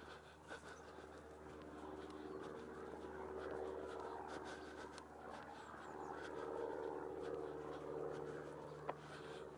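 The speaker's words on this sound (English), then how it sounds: "there's a plane you might be able to hear overhead" A faint, distant airplane drones overhead, a low steady rumble swelling and fading slightly in quiet outdoor surroundings.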